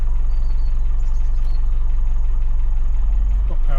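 A Land Rover Defender 90 with the 300TDi diesel engine idles from cold, a loud steady low-pitched clatter close by with an even throb throughout.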